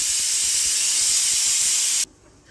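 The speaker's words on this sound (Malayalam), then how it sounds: "കറി അടുപ്പേ വെച്ചത് അതിൻ്റെ വിസിലാണ് വന്നത്" Pressure cooker on a stove holding horse gram curry lets out a loud, steady, hissing steam whistle that runs for about two seconds and then cuts off abruptly, leaving a quiet kitchen.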